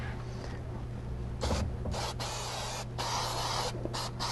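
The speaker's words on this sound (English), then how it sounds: "now I'm gonna spray the material." Adhesive sprayed onto felt padding material in several hissing bursts with short pauses, close and fairly quiet over a low steady hum.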